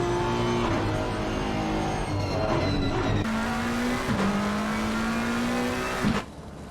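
GT3 race cars in Assetto Corsa Competizione at the Hungaroring touch and spin out: loud engine drone with shifting gear pitches, tire squeal and skidding, then an abrupt drop as the sound cuts near the end.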